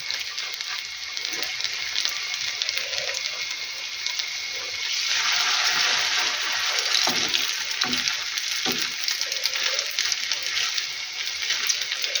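Potato pancakes with minced chicken frying in a pan, a loud continuous sizzle that swells midway, with occasional scrapes and soft knocks of turning, no talk.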